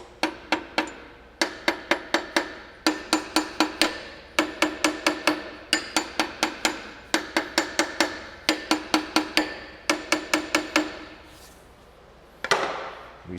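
A hammer taps on the inside of a Lexus crank pulley, striking metal in quick bursts of four to six sharp, ringing blows separated by brief pauses, loud and close with no talking.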